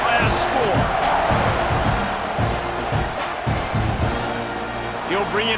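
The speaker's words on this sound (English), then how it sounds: "this crowd is buzzing after that last score" Stadium crowd in the EA Sports College Football 26 video game, a loud steady buzz with swelling cheers and bursts of noise, under a commentator's talk.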